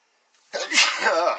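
A single loud, close sneeze bursts out after a moment of silence, with a short sharp intake followed by a forceful explosive release.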